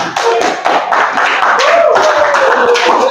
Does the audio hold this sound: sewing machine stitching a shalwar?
no